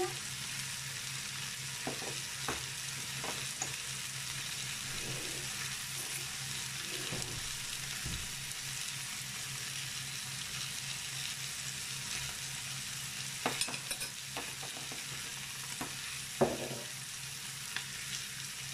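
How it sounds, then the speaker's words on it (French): Garlic sizzling in a frying pan for filet mignon with white wine and forest mushrooms, a steady close hiss of frying with occasional scrapes and clinks from stirring. "Je vais mettre un petit peu d'ail."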